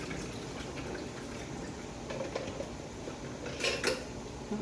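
Water splashing and trickling as it is poured off a pot of canning lids, a faint, steady wet rush with a brief brighter splash near the end and some light metallic clinks.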